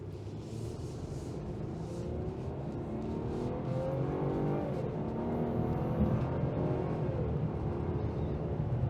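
A 2022 Mercedes-Benz E350 sedan accelerating in Comfort mode, a steady low engine drone with rising whine building gradually and evenly from inside the car, no talking.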